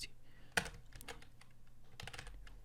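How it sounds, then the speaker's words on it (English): Typing a name on a computer keyboard while setting up a Gmail account: quick, irregular key clicks with one sharper tap, close and faint, no voices. "so let's type in."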